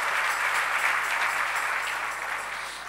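Steady applause from an audience at a Telugu religious sermon, dense clapping filling the room at even loudness before tapering slightly at the end, with no voices over it.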